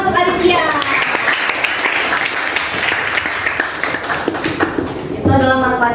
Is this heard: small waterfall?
no